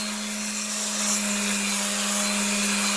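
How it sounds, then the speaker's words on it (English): A power sander runs steadily and loudly on a vintage rail plate, sanding off rust with a constant droning whine and a strong hum throughout. "So you take your sander, go down it the best you can."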